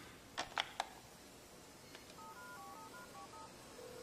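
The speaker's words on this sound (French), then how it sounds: "Ça a l'air de sonner." A telephone call is placed: a few sharp clicks, then a quick series of dialing tones at close range, followed by a single steady tone as the line begins to ring.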